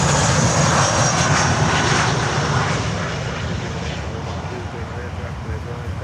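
A Sunrise Airways airliner at Miami airport roars past close by, a loud broad jet engine rush that slowly fades and thins over several seconds, heard alone.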